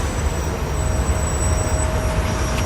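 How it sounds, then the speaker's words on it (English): A tram in Bucharest, Romania rolls past with a low rumble under steady broadband noise, with a faint high whine, constant and fairly loud throughout. "you can see a newer tram just passing through in the distance"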